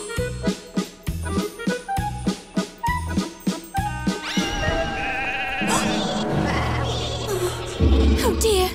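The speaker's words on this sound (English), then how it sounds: "We'll add some sheep." Cartoon sheep bleat in a bouncy run of short repeated calls over light tinkling music, followed by a fuller swelling orchestral passage.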